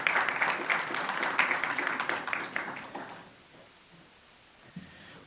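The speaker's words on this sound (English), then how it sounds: "How about a round of applause for our talented singer here?" Audience at a Jewish Heritage Month celebration claps for a singer, a dense burst of many hands that holds steady for about three seconds, then thins out and fades to quiet with a stray late clap.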